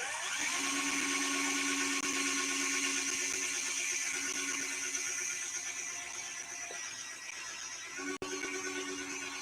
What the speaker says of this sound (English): I got to drill right next to this transformer